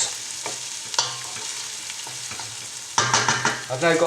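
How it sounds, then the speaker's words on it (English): Homemade stock for chorizo risotto bubbles and spits in a pot at a steady simmer, with occasional clinks, and grows louder and more vigorous near the end. "This is just this stock that we made earlier. It's just boiling away."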